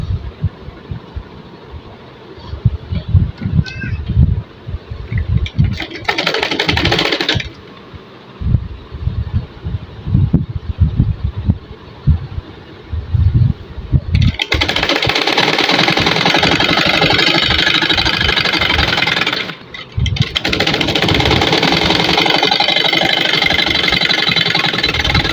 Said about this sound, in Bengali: তারপর নিচের দুই সাইড বর্ডার সেলাই করব।